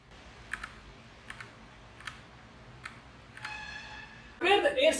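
Keys are pressed on a NuPhy Air 75 wireless mechanical keyboard as a handful of sparse, soft clicks spaced apart. A brief tone sounds, then a louder burst of noise closes the passage.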